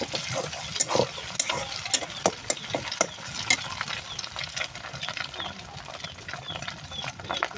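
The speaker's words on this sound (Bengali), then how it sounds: "ডিমটাকে এখন ভালো করে নাড়িয়ে নিতে হবে।" Egg frying in a pan is stirred with a utensil, giving repeated scraping clicks over a soft continuous sizzle, close and moderately loud.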